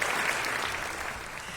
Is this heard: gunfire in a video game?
no